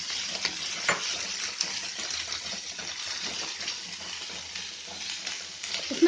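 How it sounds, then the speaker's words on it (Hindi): Chicken frying in a pan over already sautéed onions gives a steady, close sizzle with stirring scrapes and small clinks throughout, and no talking. "इसमें अब हम चिकन डाल देते हैं।"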